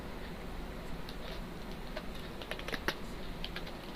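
Typing a command on a computer keyboard during a turtle-graphics lesson: soft, irregular key clicks tapping close by against a quiet room hiss, with no voices.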